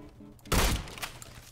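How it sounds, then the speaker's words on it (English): A grenade blasts in the online shooter Phantom Forces: one loud, sudden boom that decays over about a second, against low background game noise. "I'm gonna throw a grenade."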